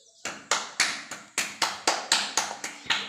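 About ten sharp hand claps in a steady, quick rhythm, close and loud, celebrating a winner in a cup-and-cap guessing game at home.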